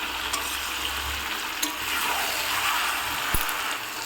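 Chicken meat frying in a pan while being stirred continuously, a dense close sizzle and hiss with occasional scraping taps of the spoon.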